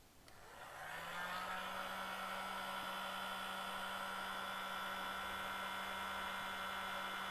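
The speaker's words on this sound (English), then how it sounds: "Now with the heat gun" A heat gun starts up and then roars with a steady, close, loud stream of hot air, played over shrink wrap around fishing rods at the fold ridge, with no speech.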